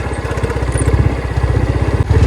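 A new motorcycle engine running close and loud on a frosty morning ride, with a rapid, steady thumping pulse, briefly dipping before resuming.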